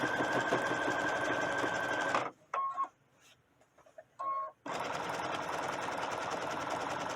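A sewing machine stitches ribbon onto fabric for appliqué, running in two long steady buzzing stretches with a quieter pause between them broken by a couple of brief stitch bursts.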